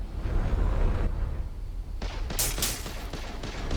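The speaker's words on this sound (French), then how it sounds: "j'aime bien le canon à bobine quand même" Rapid bursts of synthetic coil gun fire crackle over a dense, rumbling space game soundscape, several sharp shots clustering in the middle.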